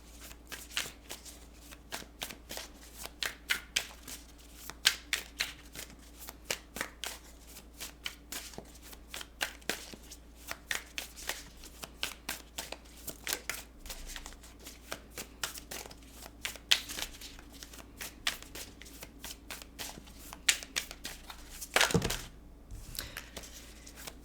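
A deck of tarot cards is shuffled by hand, giving repeated quick riffling and slapping bursts in an irregular rhythm, close and fairly soft, with a brief louder knock near the end and no voices.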